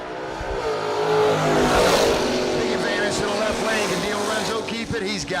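Drag race cars, a 73 Nova and a stealth-looking Camaro, launching at a bracket race; loud sustained engine roar swelling then trailing off as they pull away, with an announcer talking over it.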